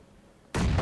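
A grenade explodes in the battle royale game PUBG, one sudden loud close blast that cuts in after a quiet moment and keeps booming and rumbling to the end.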